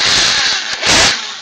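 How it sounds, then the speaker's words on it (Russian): Electric drill boring a hole through one side of a wobbly table, two loud whining bursts of the motor separated by a brief pause, close to the microphone with no talking. "Сверлим отверстие на одной стороне"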